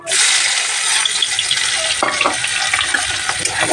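Onion and two or three green chillies dropped into hot oil for a pangas fish curry, a sudden loud hiss bursting up and holding as a strong, crackling sizzle, with a stirring clatter midway.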